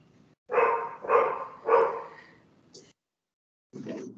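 A dog barks three times in a quick, loud, close series, followed by a shorter yip and one more bark after a brief silence.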